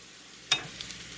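A steak browning in a ceramic pan gives a sudden burst of sizzle as it is stirred with a plastic or wooden utensil, then settles into a steady, quiet frying hiss with a few small pops.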